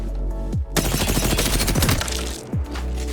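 Gunfire in the video game Apex Legends: a loud, close burst of rapid automatic shots rattles for over a second between heavier single booms, with no speech.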